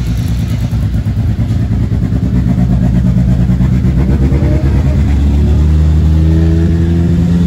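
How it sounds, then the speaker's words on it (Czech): A race special's loud engine idles roughly close by in the paddock at a Czech championship meet in Nová Paka, then revs up, its pitch climbing and holding at a higher drone. "Tak vypadá motor Dušanova speciálu"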